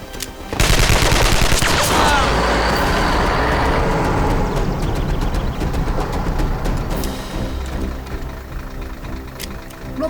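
Gunfire aimed at a truck, a dense burst of rapid automatic shots erupting suddenly and continuing loud for several seconds before thinning out, with an engine rumbling beneath.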